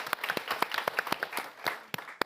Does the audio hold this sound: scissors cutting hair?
no